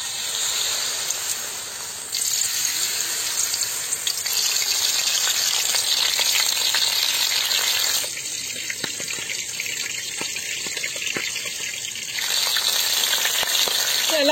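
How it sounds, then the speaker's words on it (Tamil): Batter-dipped chicken heads deep fry in hot oil, giving a loud, continuous bubbling sizzle that crackles steadily throughout, with faint stirring and shifts in intensity partway through. "எல்லாம் போட்டு நல்லா பொரிச்சு எடுத்துக்கலாம்"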